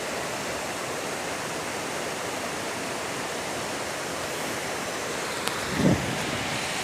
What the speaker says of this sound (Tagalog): Kapag nasa malayo ka palang, maganda pa rin tignan yung falls na yan eh.